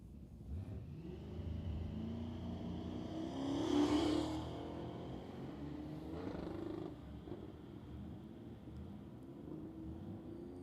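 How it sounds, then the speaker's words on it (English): Nitrous-equipped pickup truck and a Ford Fairmont at a drag strip in South Georgia, engine rumble rising to a loud revving pass midway, then fading to a steady distant drone. "The nitrous-infused pickup truck coming back for another crack at it."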